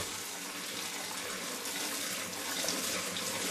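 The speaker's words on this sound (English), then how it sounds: "So all I merely do is run a tap into it, not too much, give it a swirl round." A tap runs steadily into a container of soapy water used for washing stainless steel tumbling pins, a continuous close splashing gush with no talking.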